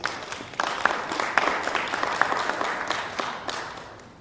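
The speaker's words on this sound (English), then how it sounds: "I think you deserve a round of applause." Audience applause in a hall after a talk on corruption in Malaysia, a dense, even patter of many hands clapping at moderate distance, with no voices over it.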